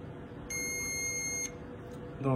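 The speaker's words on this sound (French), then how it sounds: "ça va faire un bip sonore." A lab instrument gives a single steady high electronic beep lasting about a second, signalling to insert the sample, over a faint background hum, followed by a brief murmur.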